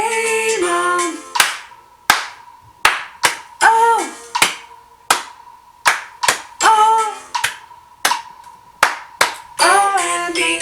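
Sharp hand claps land in rhythm with a children's Bingo song at a circle-time session, crisp close slaps spaced about a second apart between short sung phrases, with a sustained tone running underneath.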